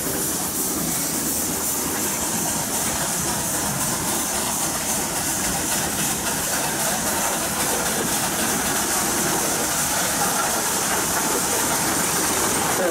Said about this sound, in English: This engine here is an 1889 10 horsepower Rushville Company engine owned by the Heffelmeyer family of New Palestine, Indiana.